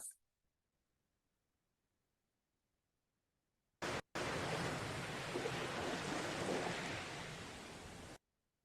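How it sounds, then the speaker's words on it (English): Recorded ocean waves wash in as a broad steady roar of surf lasting about four seconds, fairly loud and continuous, alone with no talk over it. "listening to some sounds of the waves, just to see if that helps us a little bit relax"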